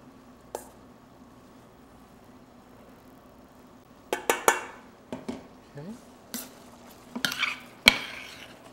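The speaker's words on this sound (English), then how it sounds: "we're going to take our pepper steak, and we'll plate up our pepper steak" Metal utensils clink and scrape against pots and plates while pepper steak is served over jasmine rice, a few sharp clatters spaced out over a quiet kitchen hum.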